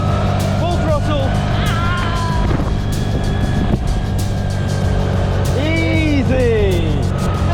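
A car engine runs at full throttle while climbing a steep hill on a Thailand road trip, giving a loud, steady drone throughout with voices talking over it.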